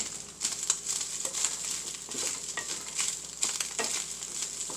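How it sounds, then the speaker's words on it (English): A spoon works through lasagna sauce in a pan, making a quiet wet scraping and squelching with a faint sizzle, in irregular strokes heard up close and alone. "So now I'm going to give it a nice mixing, a nice stirring."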